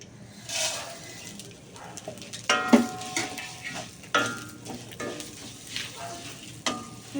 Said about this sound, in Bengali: এবার এই তেজপাতাটা দেবো আর একটু ঘি দেবো। ব্যাস, এবার আমি সিমুইটা দেবো।